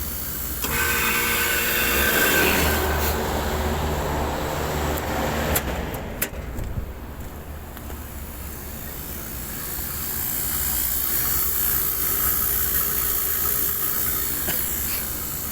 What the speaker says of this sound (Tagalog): So gamit lang itong vacuum pump while nag-vacuum ako sa system.